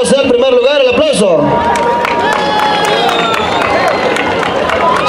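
A crowd at a town patron saint festival in San Andrés Ocotepec, 2023, breaks into loud applause and cheering that fills most of the clip. A voice talks briefly before the clapping begins.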